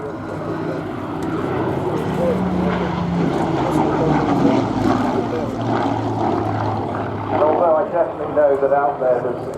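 A WWII Hawker Hurricane propeller aircraft drones past at an RAF air show, a loud, steady engine roar with shifting tone, while someone talks over it throughout.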